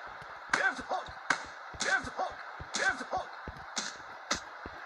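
Sharp, punchy impact hits land in quick bursts, several thumping strikes spaced irregularly with a brief pause between clusters, left and right hooks in the Android boxing game Punch Boxing.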